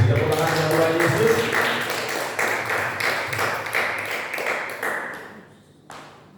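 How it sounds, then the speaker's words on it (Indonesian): A church congregation claps hands together in steady rhythmic unison during a worship service, loud and sustained for several seconds before tapering off near the end, with a few scattered claps after. "Beri tepuk tangan untuk Tuhan Yesus."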